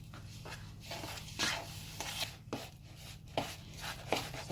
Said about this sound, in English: now you just want to work this and work that egg into your ingredients until it forms a dough